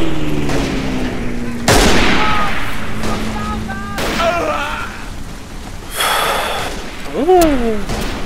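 Rifle fire in the World War I shooter game Verdun: sharp loud shots with ringing tails, mixed with battlefield noise and someone speaking over the action.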